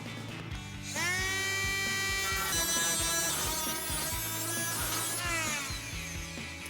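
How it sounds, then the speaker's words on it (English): A power tool cuts through the brake dust shield of a 2013-2022 Ford F-250, a loud, continuous whining cut that starts abruptly and rises and falls in pitch as it bites into the metal. No voices are heard. "trim this down at our cutting line"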